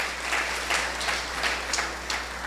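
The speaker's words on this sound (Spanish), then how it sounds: "¿Cuánto le da un fuerte aplauso a Jesucristo, a aquel a quien servimos con todo el corazón?" Congregation applause in a church service, a soft distant patter of clapping over a steady low hum, with faint pulsing swells in the crowd.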